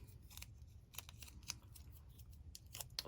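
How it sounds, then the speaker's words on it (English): Scissors cut paper for a junk journal, with a series of quiet, close snips in an uneven rhythm over a low background rumble, and no talking. "I'm just going to cut that out"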